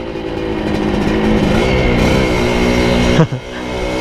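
Honda Nova Dash motorcycle on an Indonesian road ride, its engine droning steadily at close range with a rising, revving tone, then a brief sharp dip near the end as the throttle is rolled off.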